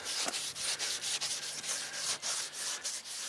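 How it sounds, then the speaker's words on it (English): A car headlight lens is buffed by hand with toothpaste or shaving cream, making a continuous close rubbing hiss with regular back-and-forth strokes throughout. "Okay, so 8 minutes of buffing on both sides."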